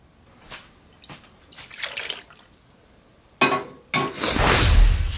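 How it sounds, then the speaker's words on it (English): Water poured into a slow cooker for baby lima beans, starting with scattered drips and small splashes, then a louder sustained pour that fills the pot. "I'm going to put just a little bit more water in here because this is going to be cooking all day long."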